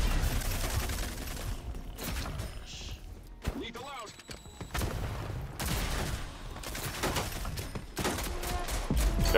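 A player's gun in the video game Rogue Company fires in rapid, dense automatic bursts, loud and close, with brief pauses and other game sounds between volleys, while a voice talks over the action.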